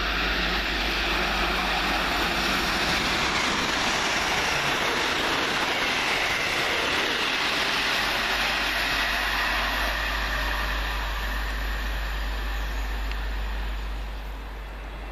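The King's Lynn Flyer train passes Welham Green as a loud, sustained roar close by that eases off and fades slightly at the end.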